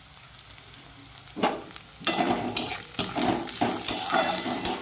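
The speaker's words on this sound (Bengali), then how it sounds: "দেখুন বন্ধুরা পেঁয়াজ আলু রসুন ভেজে নিলাম" Onion, garlic and potatoes fry in hot oil in a pan: a continuous loud sizzle, with sharp crackling bursts as the pieces are stirred and tossed every second or so.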